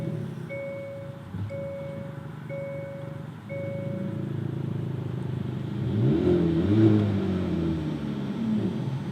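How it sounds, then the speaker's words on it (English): A 2022 Hyundai Kona N turbocharged engine starting after a push-button start, heard from inside the cabin. Four evenly spaced warning chimes come first, then the engine cranks and catches at about six seconds and settles into a low, steady idle. "you just press to hold the brake, push this button, and it starts right up"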